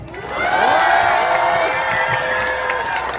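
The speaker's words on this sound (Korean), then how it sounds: "우리 부모님들 박수와 함성 크게 한번 다시 한번 주세요" Parents at a children's recital cheer and clap loudly, with sustained shouting voices rising over a busy crowd roar in a short, energetic burst.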